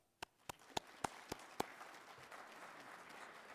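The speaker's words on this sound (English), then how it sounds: "Now a round of applause" A handful of sharp, evenly spaced claps ring out at a Dakota State University fall 2019 hooding ceremony, about six distinct claps over the first second and a half before fading into quiet room tone.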